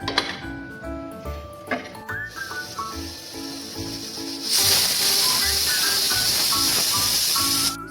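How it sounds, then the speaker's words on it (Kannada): A pressure cooker holding sprouted horse gram sambar lets out a loud, sustained steam whistle and hiss lasting a few seconds, preceded by quieter kitchen sounds with background music. "ಇದನ್ನ 1-2 ವಿಷಲ್ ಕೂಗಿಸ್ಕೊಳ್ಳೋಣ"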